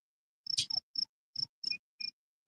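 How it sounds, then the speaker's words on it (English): Six short, sharp cricket chirps at an irregular, unhurried pace, close and clear against a quiet background. "I hear crickets, frogs, and birds"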